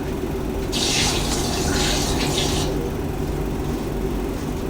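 Tap water runs steadily while someone washes their hands up to the elbows for ablution, a close continuous splashing stream that gets brighter in the middle as the water strikes skin, with no talk.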